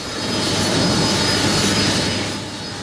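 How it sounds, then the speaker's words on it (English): Air Niugini passenger jet landing at Jackson's International Airport, a loud, continuous broadband engine roar with a steady whine on top, holding near and even throughout with no voices. "The Air Niugini flight PX004 landed at the Jackson's International Airport at 1:50 p.m, followed by a washdown of the plane."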